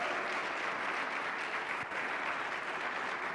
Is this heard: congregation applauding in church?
yes